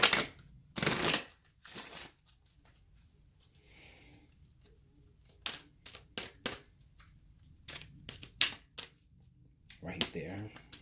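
Bursts of tarot card shuffling, crisp riffling flurries repeated several times with brief pauses, close by and fairly loud.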